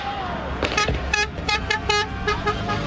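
Car horns honk repeatedly during a street celebration in Madrid after a World Cup win, several short toots and longer blasts overlapping over low traffic rumble.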